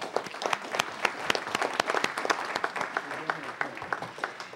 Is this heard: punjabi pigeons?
no